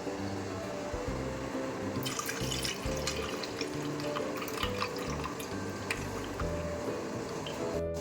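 Rice and lentils being washed in running water, a continuous close splash and trickle from a tap with sloshing in the vessel, and a sharp clatter at the very end.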